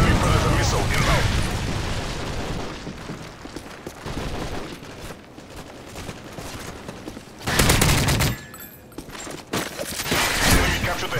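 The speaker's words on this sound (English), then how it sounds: "Friendly Predator missile inbound." Predator missile strike with gunfire in a Call of Duty multiplayer match: heavy bursts of automatic fire and booming blasts, a big explosion surge midway, with game announcer voice lines mixed in.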